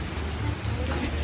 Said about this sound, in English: I don't know if you can tell, but it's really raining out here